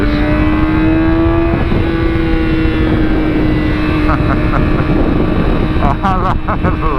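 A motorcycle exhaust drones loudly and continuously while riding on the road, a steady engine tone with slight pitch shifts and wind noise, close to the rider.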